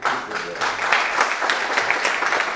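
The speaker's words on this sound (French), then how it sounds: "j'aimerais vous demander à l'ensemble de l'assistance de vous applaudir pour tout ce que vous avez fait" Brief burst of audience applause at a panel on startup incubation and acceleration in Morocco; dense, fairly loud clapping with a voice faintly audible underneath.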